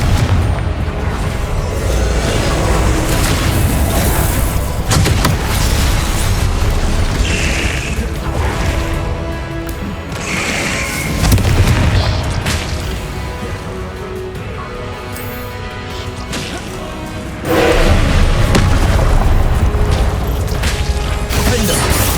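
Confringo explosion spells cast in Hogwarts Legacy, loud repeated blasts and impacts over constant combat noise and music, one especially strong burst near the end.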